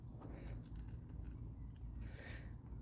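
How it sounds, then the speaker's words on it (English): Scissors snipping off excess material while cutting a notch, soft quiet clips repeating over a low steady background hum. "cut the excess off on both sides."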